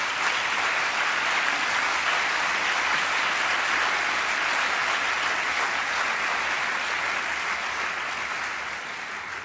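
Sustained applause from an audience at an award ceremony, a dense, steady wash of clapping that holds loud throughout and eases slightly near the end.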